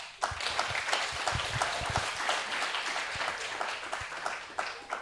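A conference audience applauds, a dense, steady wash of clapping from many hands that holds throughout at a fairly even level.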